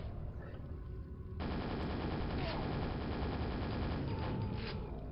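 Rapid, continuous stream of super nail gun fire in the game Quake, starting abruptly after a short pause and rattling on loudly in a fast mechanical burst to the end.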